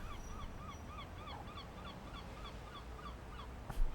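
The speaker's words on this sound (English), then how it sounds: "If I can hear the seagulls." Seagulls in the railway game Train Sim World on the East Coastway route, a string of repeated squawking calls at moderate distance over low ambient rumble, ending with a brief thump.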